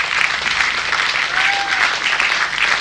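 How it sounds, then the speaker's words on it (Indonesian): Audience applause for sponsors at a televised Salam Canda show, a steady wash of clapping from a crowd, loud and continuous throughout with no talk. "Tepuk tangan untuk para sponsor kita."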